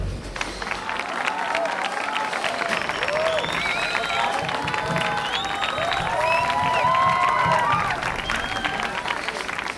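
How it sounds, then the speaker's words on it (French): A large audience claps steadily for several seconds, a dense, sustained wash of applause with scattered cheers and voices mixed in. "je vous demande encore d'applaudir"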